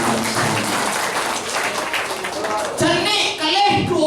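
A crowd at a Balinese bondres comedy performance applauds for Ida and Yesi, a thick, continuous clapping that swells louder midway, with voices mixed in under it.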